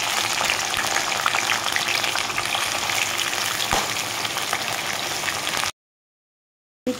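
Prawns frying in hot oil for a Bengali yogurt prawn curry, a steady dense sizzle that fills the pan closely and evenly, then cuts to silence near the end.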